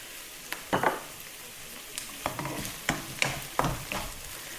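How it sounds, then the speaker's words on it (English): Tomatoes frying in a hot wok for a mussels in tomato and chilli sauce dish, a soft steady sizzle broken by several sharp stirring scrapes and clatters of the utensil against the pan, close and moderately quiet. "That's the tomatoes added. Just let them cook through for about half a minute."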